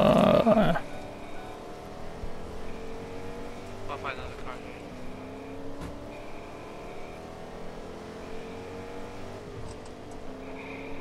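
A car engine in Fortnite hums steadily with shifting pitch after a brief loud burst at the start; faint background noise throughout.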